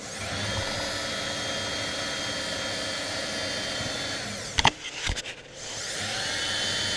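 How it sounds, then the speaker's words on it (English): A Craftsman 6x6 tractor's gearbox spins over in reverse, a steady loud mechanical whir with gear whine that runs continuously, briefly breaks into a few clunks and dropouts near the end, then resumes. "I wanted to spin it over, get the gears all lubricated in there."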